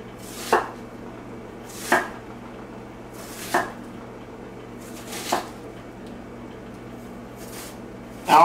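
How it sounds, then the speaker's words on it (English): Knife chopping bell pepper and celery on a cutting board in a home kitchen, making five spaced, fairly crisp chops roughly a second apart over a low steady room hum. "we're going to chop up the bell pepper and the celery"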